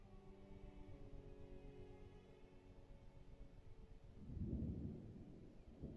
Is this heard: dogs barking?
no